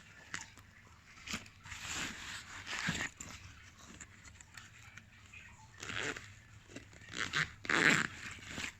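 A YKK zipper on a Held Safer 2 motorcycle jacket's air vent is pulled open in a few soft, rasping strokes, faint and close, with quiet gaps between them.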